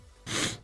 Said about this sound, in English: A rare single sneeze.